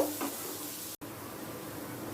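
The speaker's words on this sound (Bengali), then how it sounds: "কুচিয়ে নেওয়া পেঁয়াজটা হালকা লাল করে ভেজে নেব" Chopped onion fries in a pan for a Bengali soya bean curry, a steady, close sizzle that breaks off for an instant partway through and then resumes.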